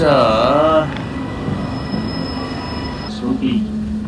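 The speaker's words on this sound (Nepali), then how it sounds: "फाइनली हाम्रो ट्रेन आएको छ।" A train rumbles and hisses as it pulls into a UK station platform, with a long high squeal of braking wheels, a steady low drone, and a brief voice near the start.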